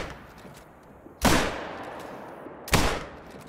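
Two loud gunshots from base game hunting rifles in a hunting video game set on Silver Ridge, about one and a half seconds apart, each a sharp blast with a short decaying tail over quiet ambience.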